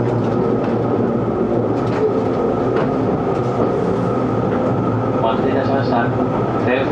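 A Seibu Shinjuku Line 30000 series local train bound for Hon-Kawagoe, heard from inside the carriage as a steady low rumble with rail clatter and a rising motor whine near the end, while a voice speaks over it.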